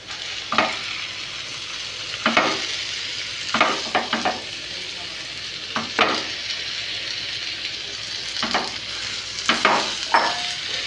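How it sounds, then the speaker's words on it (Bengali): Chicken pieces hitting lightly browned onions in a hot pan, a steady sizzle broken by a series of sharp scraping stirs at irregular intervals, close and fairly loud with no talking. "পেঁয়াজটা হালকা ব্রাউন হয়ে গেছে আমি এর মধ্যে চিকেনটা দিয়ে দেব"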